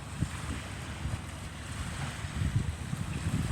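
Cable ferry crossing a river between Putney and Mortlake in Sydney, giving a steady low rumble of water and wind with soft lapping surf and gusty microphone buffeting, no voices.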